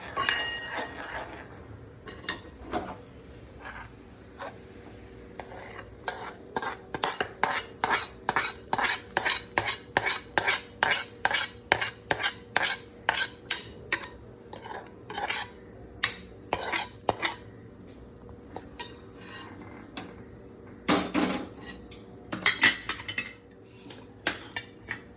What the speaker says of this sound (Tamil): இப்போ மிக்ஸ் பண்ணணும்.